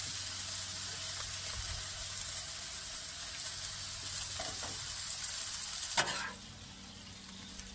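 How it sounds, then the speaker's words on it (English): Venison browning in butter in a pan gives a steady, close sizzle and fry throughout, with a brief clatter of a utensil partway through and the sizzle settling slightly quieter afterward. "So our venison's browning up."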